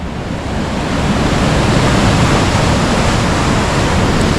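River water rushes steadily and loudly close by on a wild riverbank near a rural mill house, a dense unbroken wash with no voices.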